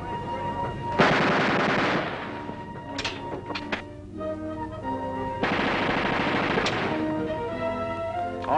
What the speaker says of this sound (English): Pick one and fire it until it jams, then find out what's wrong with it.